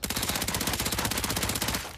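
Rapid pistol gunfire from the Hitman 3 VR video game, a steady fast burst of close, loud shots repeating evenly for about two seconds before trailing off.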